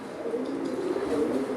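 A silky female pigeon coos softly in a low, continuous murmur, close by and alone without any talking.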